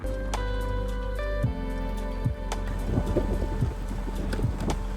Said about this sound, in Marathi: तर गाईज पाऊस येतोय आणि डोंगरावर अख्खे ढग उतरले